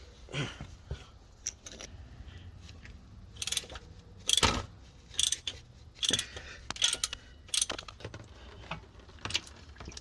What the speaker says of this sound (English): So I'm gonna go ahead and pop this regular ratchet.